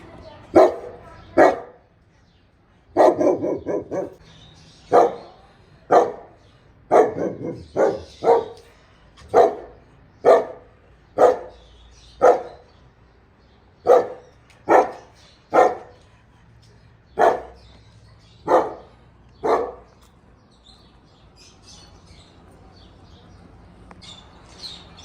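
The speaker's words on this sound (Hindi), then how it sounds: "ये जंगली कुत्ते ने" Wild dogs at a zoo in Al Ahsa, Saudi Arabia, bark repeatedly, about seventeen sharp barks at a steady, roughly one-per-second pace, fairly close and loud, with faint bird chirps behind.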